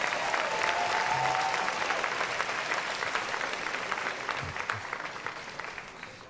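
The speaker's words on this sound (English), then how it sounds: "Give them one more round of applause." Sustained applause from a graduation audience at a 2023 college and career academy ceremony, a dense wash of many clapping hands that stays loud and gradually tapers off, with no talk over it.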